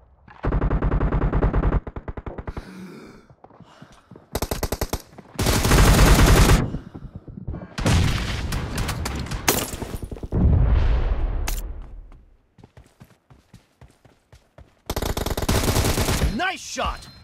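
Gunfire in the video game PUBG: long automatic bursts and rapid single shots, loud and close, broken by short gaps and followed by reverberant echoes, with brief spoken callouts between them.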